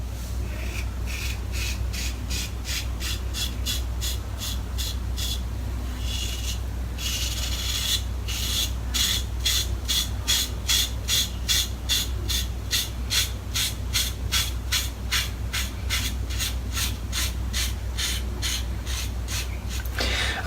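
A razor shaves a head in steady, rhythmic rasping strokes, each scrape short and close, repeating in a regular pattern over a faint background hum with no talking.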